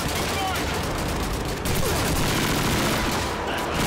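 A PPSh submachine gun fires in rapid continuous bursts during a Call of Duty 2 battle, a dense, loud wall of gunfire and explosions filling the whole stretch.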